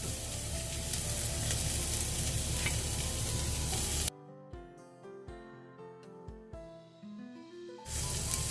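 Garlic and carrot stir-frying in a hot pan for vegetable Hakka noodles, a steady loud sizzle that cuts out midway, leaving sparse clinks and scrapes before the frying noise returns.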